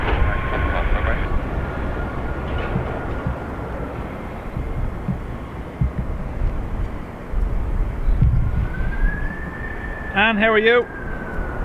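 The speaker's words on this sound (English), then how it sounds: "EI3192 off to Liverpool now, this ATR." ATR turboprop airliner taking off at Dublin Airport on a windy day, a broad roaring engine rumble over gusty wind noise, with a brief voice and radio chatter near the end.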